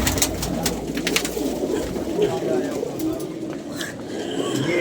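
Pigeons coo softly at close range, low murmuring calls that blend into a steady background of rustling and room noise.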